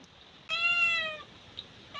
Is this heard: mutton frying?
no